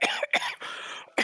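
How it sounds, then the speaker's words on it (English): A nasty, harsh cough from someone claiming a dislodged rib comes as a quick, close series of about four raspy bursts with short gaps between them. "And a nasty cough."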